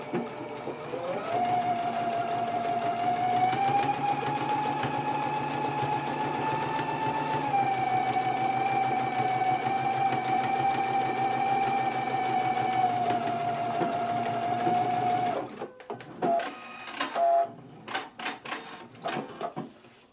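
A sewing machine stitching a skirt seam with a 5/8 inch allowance, running in a continuous close whir for about fifteen seconds, then slowing into a few short bursts before stopping.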